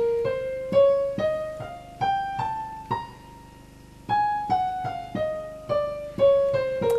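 A descending melodic minor scale plays as a sequence of about a dozen distinct sustained tones, each struck note stepping lower, clear and close with no talking.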